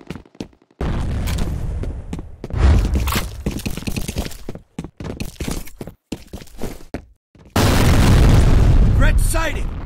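Grenade blasts in the shooter game F.E.A.R. Combat: loud, deep booms with crackling debris amid scattered gunfire and footsteps, ending in a heavy sustained explosion with ringing tones.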